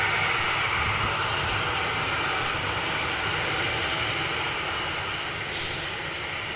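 Steady, loud roar of an EasyJet passenger jet's engines, broadband and continuous, easing slightly as it passes over a home near an airport.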